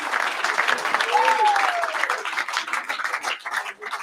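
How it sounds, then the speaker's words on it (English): A crowd at a football league medal-count awards night applauds, with a dense, steady wash of clapping that tapers toward the end, and a whistle-like voice or cheer rises briefly above it. "Having a big round of applause for Jack on his season 2021."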